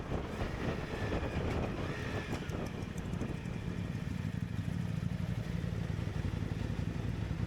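A KTM motorcycle cruising along a canal road in Chiang Mai, Thailand, with a steady low engine drone mixed with rushing wind noise throughout, continuous and fairly loud with no speech.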